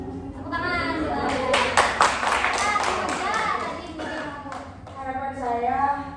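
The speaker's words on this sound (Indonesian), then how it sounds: "Tepuk tangan" Schoolchildren in a group guidance session clap in a short burst that mixes with their chatter and voices, close and moderately loud, then the talk continues.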